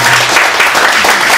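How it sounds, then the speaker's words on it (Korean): Loud, dense applause from an audience at a church Lenten lecture, a steady wash of many hands clapping that fills the whole moment without a break. "다시 한번 큰 박수 부탁드리겠습니다"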